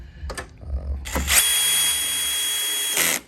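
Cordless power drill driving bolts while installing an LED light with DRL on a 2021 Jeep Wrangler, two short bursts then a sustained high whine that ends as the clutch slips and ratchets briefly, close and loud.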